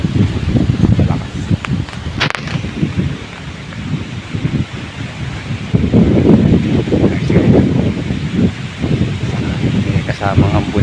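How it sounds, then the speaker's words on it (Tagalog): Strong typhoon wind gusting through trees and rustling leaves, a steady loud roar with swelling surges, heard close and continuous, with a voice talking briefly over it. "Ang lakas pa rin ng hangin guys."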